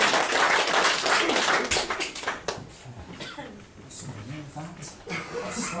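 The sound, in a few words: audience applause for a stage volunteer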